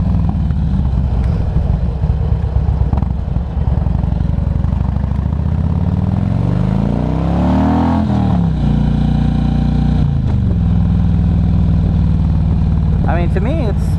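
A Harley-Davidson motorcycle on a ride around the block, its loud engine droning and rising in pitch as it accelerates through the gears, heard up close and continuously.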